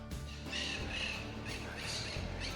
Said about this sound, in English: The trees in the square are full of the noisiest birds.